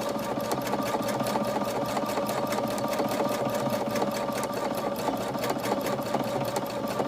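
A domestic sewing machine stitches steadily through a quilted pillow cover, a continuous rapid mechanical whir with fast needle ticks throughout, close and even with no pauses.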